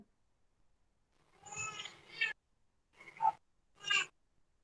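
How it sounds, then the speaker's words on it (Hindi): A cat meows in several short, close calls, two in quick succession followed by two more after a pause, in an otherwise quiet room with no talk. "बिल्ली कौन ले आया"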